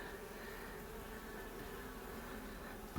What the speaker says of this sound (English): still lots of bees